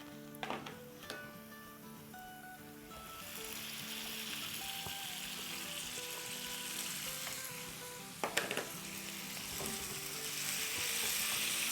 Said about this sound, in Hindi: चलें अब हमारे नमक लगे हुए गाजर डाल देते हैं इसमें।